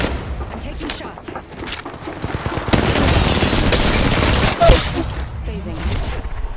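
Gunfire in Apex Legends Mobile, rapid bursts of shots that build into a sustained loud volley, with a sharp impact near the end and quieter effects around it.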